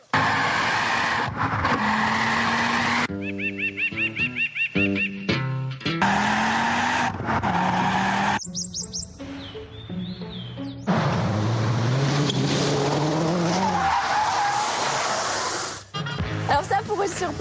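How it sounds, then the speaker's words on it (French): Ford Focus RS with over 300 horsepower driven hard, engine revving loudly with rising and falling pitch and tyres squealing, close and continuous with music and sound effects mixed in. "Dans une Ford Focus de plus de 300 chevaux."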